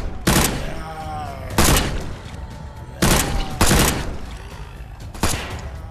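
Minigun fire from a boss in the Gladiatus video game comes in loud, dense bursts of rapid gunfire, about five separate volleys over several seconds with short gaps between them.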